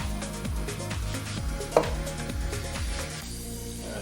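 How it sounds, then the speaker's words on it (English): Pork chops searing in a hot pan on the stove, a steady close sizzle with repeated knocks and scrapes of utensils against the pan and one sharp clink midway. "I'm just going to sear this for a couple minutes."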